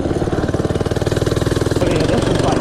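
A small FRP GMB-100 minibike engine fires on the first pull and settles into a loud, close, steady idle, its rapid even pulses throbbing continuously.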